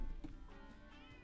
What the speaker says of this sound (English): You sit on the floor and meow.